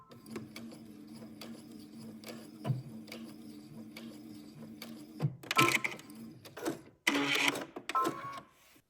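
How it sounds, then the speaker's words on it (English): A sewing machine stitches a dress seam in short, rapid whirring bursts, with a quiet ticking hum between runs and louder mechanical rattles near the end. No one talks. "we're going to go to the sewing machine and we're going to sew all four seams together"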